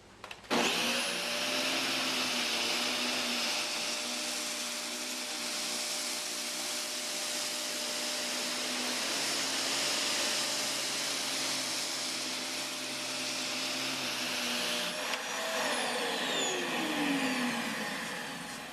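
An LG Kompressor LuV250C upright vacuum cleaner runs close by, a loud steady whooshing roar pulling debris along the baseboards, then winds down with a falling whine near the end.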